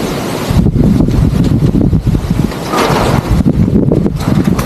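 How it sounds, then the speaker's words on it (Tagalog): Strong typhoon wind in Pangasinan, Philippines roars and buffets the microphone continuously, loud and close, with a rough rumbling texture and no voices. "Takas pa rin ang hangin."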